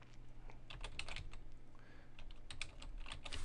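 Quick, irregular clicks of fingers typing on a computer keyboard sound faint and close, with brief pauses between bursts and no talking.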